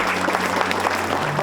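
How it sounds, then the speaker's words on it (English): Audience applause at a graduation ceremony, a steady dense patter of clapping hands filling the room for a brief moment, with a low hum underneath. "Let's applaud them because they too should be congratulated."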